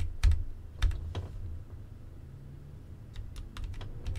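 Keys on a computer keyboard are pressed in short, quiet bursts of clicks near the microphone, with a few louder thumps early on and sparse, irregular taps after that.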